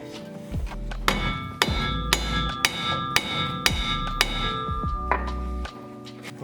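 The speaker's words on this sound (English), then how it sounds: "I guess we'll get a hammer and do it right." Repeated sharp metal-on-metal hammer blows strike a BMW E46 drive shaft with worn U-joints, about eight evenly spaced hits ringing close and loud with a lingering metallic ring, worked on the floor.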